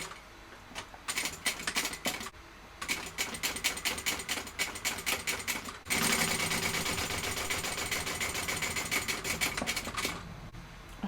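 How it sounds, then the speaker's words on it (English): A sewing machine stitches fabric pieces right sides together, running in rapid mechanical bursts with brief pauses, then one long continuous run, close and clear without talk. "we're going to sew that with the seam allowance given in the pattern"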